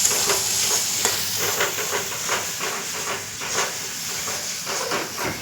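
Chicken cooks in a pan with a loud, continuous steamy hiss and sizzle, broken by repeated stirring scrapes, close and busy throughout.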